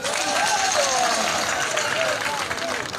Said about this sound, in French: Vous pouvez vous applaudir très fort.